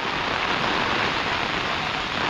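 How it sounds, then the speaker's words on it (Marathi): Heavy rain pouring down steadily as a dense, loud, continuous hiss of drops striking surfaces, with no voices heard. "पावसाचा मध्ये खूपच जोरदार चालू होता म्हणून कॅमेरा बंद करावा लागला"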